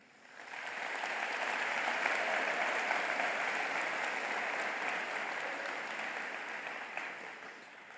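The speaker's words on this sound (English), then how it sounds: "a big round of applause for our graduating class of 2025" A large crowd at a high school commencement applauds the graduating class of 2025, clapping swelling in over the first second, then holding steady and gradually thinning toward the end.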